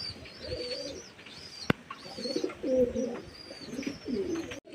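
Several domestic pigeons cooing in a bird room, repeated soft throaty coos in overlapping bursts from close by, with one sharp click partway through and no voices.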